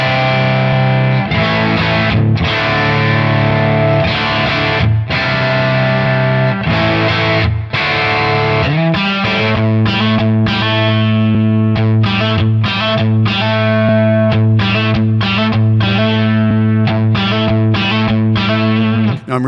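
A distorted electric guitar played through a Tonex pedal amp model, loud and close: chugging palm-muted chords and sustained notes in a driving, stop-start rhythm with no voice over it.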